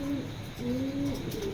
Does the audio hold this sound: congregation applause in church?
no